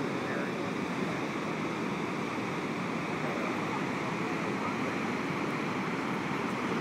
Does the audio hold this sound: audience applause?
no